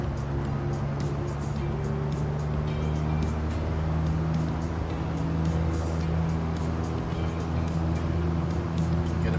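In the Microsoft Flight Simulator game, a Just Flight Piper Warrior's single piston engine drones steadily at takeoff power, a constant low hum with tonal harmonics, moderately loud and unbroken.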